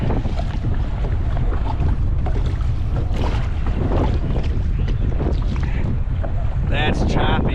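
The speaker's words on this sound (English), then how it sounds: "this wind is brutal today" Strong, gusting wind roars across the microphone on a fishing boat riding choppy water, a loud continuous rush with buffeting and splashy texture throughout, no voice clearly audible.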